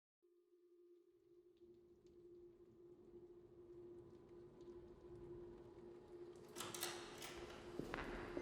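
A tram hums steadily with a tonal drone and low rumble, building slightly; rattles and clunks appear near the end.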